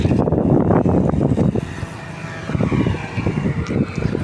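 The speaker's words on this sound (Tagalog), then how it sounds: "Testingin niya ang motor na binili." A newly bought motorcycle's engine runs near a fish pond during a test ride, a rough, sputtering motor sound that pulses and dips midway, then picks up again.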